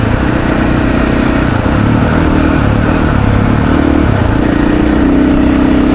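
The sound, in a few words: KTM 500 EXC-F motorcycle riding in sixth gear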